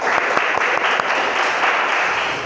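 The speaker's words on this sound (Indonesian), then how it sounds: "kasih tepuk tangan" A classroom of students claps on a teacher's cue, a dense, steady burst of applause at close range, with no talk over it.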